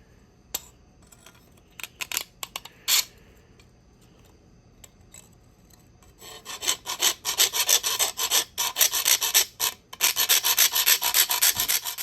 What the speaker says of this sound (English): I'm gonna take a file and kind of work on this a little bit